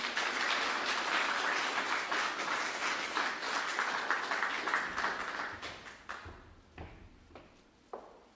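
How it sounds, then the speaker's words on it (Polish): Dense audience applause at a vocal festival concert fills the hall, then thins into scattered, tapering claps and a few last isolated hand slaps before dying out. "Wielkie brawa"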